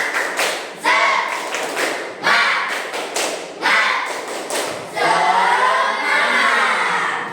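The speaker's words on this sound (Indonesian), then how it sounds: "Sekali lagi kurang semangat, tepuk semangat." Schoolchildren in Bandung repeat the 'tepuk semangat' clap chant, crisp clusters of unison claps in a set rhythm mixed with chanted voices, ending in a longer burst of excited shouting and cheering, loud and near.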